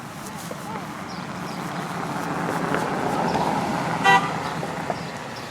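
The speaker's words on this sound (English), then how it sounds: "You come down here, we honk at you." Street traffic rumbles while a car horn toots once briefly, partly masked by people talking nearby.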